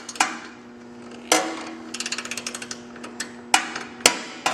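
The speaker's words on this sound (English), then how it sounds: "I'm using about a 10-inch extension or so on my ratchet" A ratchet fitted with a roughly 10-inch extension loosens a shock bolt on a cross-country lower link, giving a run of quick metallic clicks between several sharp, loud knocks, close and without talk.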